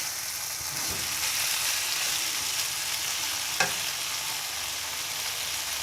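Kachnar keema chicken fries in a pan with a constant bright sizzle, while a spoon stirs and mixes it and one sharp clink cuts through midway.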